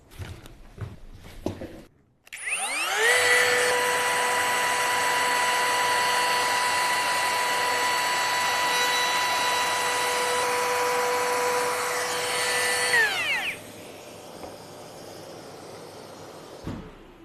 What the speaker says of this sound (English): we're all set up with a 6mm roundover bit and the dust extraction for edge routing